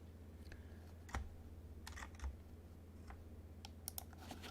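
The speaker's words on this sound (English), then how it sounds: "select edges and hit Control B on the keyboard" Computer keyboard keys are pressed for the Control B bevel shortcut in Blender. A handful of faint, scattered clicks and taps sit over a low background hum.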